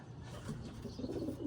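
Pigeons coo in a loft, a close, low, soft rolling murmur of overlapping coos that swells slightly toward the end.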